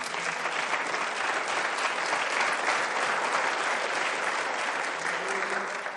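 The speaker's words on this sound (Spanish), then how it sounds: "dale un aplauso al Señor" A church congregation breaks into loud, sustained applause during a sermon, a thick, even wash of clapping that holds for several seconds.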